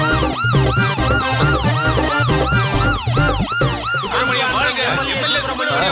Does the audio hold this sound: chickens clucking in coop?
no